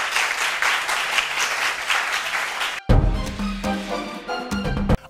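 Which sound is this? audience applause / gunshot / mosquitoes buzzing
audience applause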